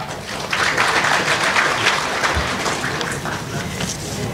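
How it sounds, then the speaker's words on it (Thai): A conference audience at an open government data event gives welcoming applause to a moderator, a moderate, steady wash of clapping that lasts throughout with no talk on top. "ขอเสียงปรบมือต้อนรับ"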